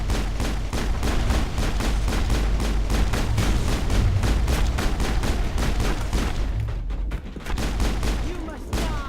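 Rapid sustained gunfire in the Mass Effect video game, a dense loud barrage of shots in quick succession that keeps up almost without pause, easing briefly near the end before resuming.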